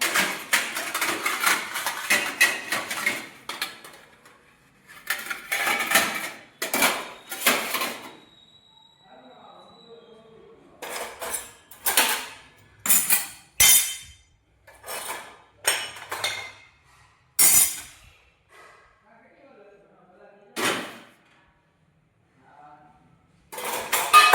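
Steel pots, pans and utensils are stacked and put away in a home kitchen, clattering in loud bursts of clanks and clinks separated by quiet gaps, with a voice talking in between.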